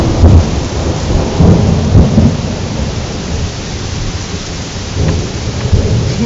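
Heavy rain pours steadily in a severe storm in Düsseldorf/Mettmann while deep thunder rumbles and rolls in waves, loud and close, with no voices.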